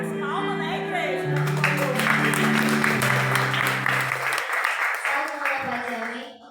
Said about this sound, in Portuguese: E as palmas, né, igreja?